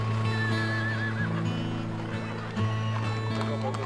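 A horse neighs and whinnies amid a busy outdoor crowd at Europe's largest open-air horse market, held on a meadow in Ireland's Midlands, with steady low rumble and people talking in the background.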